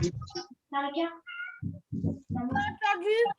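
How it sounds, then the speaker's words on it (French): A cat shut in somewhere meows in a home kitchen during children's cookie baking, repeated nasal cries mixed with close, quiet human voices. "Il y a un chat enfermé là."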